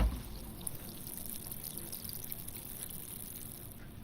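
Sparkling water pours into a dirty glass, a steady close fizzing trickle and hiss running the whole time, with no speech.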